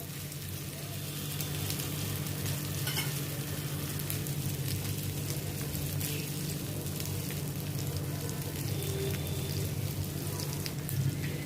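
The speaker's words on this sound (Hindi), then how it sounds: "अभी ये ऑयल गर्म हो गया, इसमें मैं अरबी ये फ्राई करने के लिए डालती हूँ" Pieces of arbi (taro root) fry in hot oil over a medium-high gas flame, giving a constant, even, rain-like sizzle that holds steady throughout with no talking.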